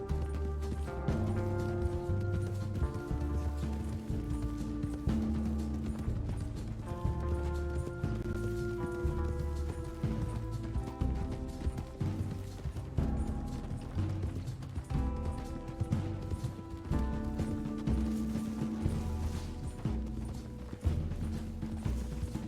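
Steady rhythmic hoofbeats from a galloping horse in the video game Red Dead Redemption 2, with a looping mechanical, ratcheting texture and no voices, continuing evenly throughout.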